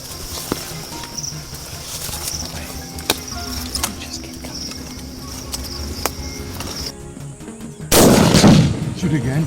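Gunshots fired at a leopard during a hunt in a rugged South Asian jungle: scattered sharp cracks through the first part, then one loud, close blast near the end, with no voices.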